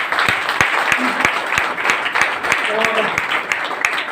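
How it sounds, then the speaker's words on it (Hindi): An audience claps loudly and continuously at an event, a dense ongoing patter of many hands with a few sharper individual claps standing out, while a voice speaks briefly underneath. "एक बार जोरदार ताली बजा दीजिएगा"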